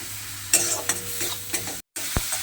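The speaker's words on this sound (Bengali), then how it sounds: "মশলাটা আমি খুব ভালোভাবে কষিয়ে নিয়েছি" A spice paste is stirred and fried in a pan, with several scraping strokes of a spoon over a soft sizzle and a brief break before the stirring resumes.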